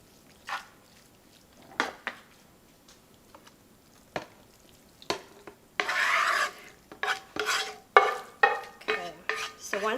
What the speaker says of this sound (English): Stir it up one more time.